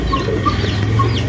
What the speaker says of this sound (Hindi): इन्हों में मैंने मुर्गे बंद कर रखे हैं, एक ये मुर्गा मैंने खुला छोड़ दिया है